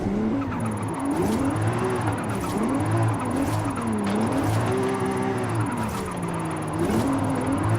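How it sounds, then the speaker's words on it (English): A car drifts in the Forza Horizon 5 racing game played on a steering wheel, engine droning and rising and falling in pitch as tires squeal through repeated slides, loud and continuous with no speech. "I can't drift like this at all."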